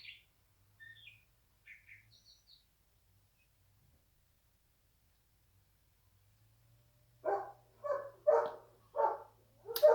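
A few faint, high chirps sound sparsely at first, followed by a louder cluster of rhythmic, harsher calls close by against near silence.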